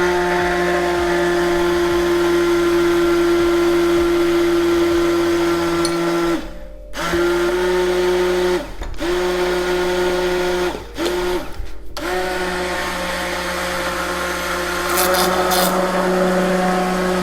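A blender whirs loudly as it purees hot sauce ingredients, a steady motor drone that drops out in several brief pauses and starts up again, with no talking.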